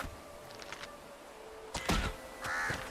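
A crow caws twice in the medieval survival game Bellwright, moderately distant and harsh against quiet outdoor ambience.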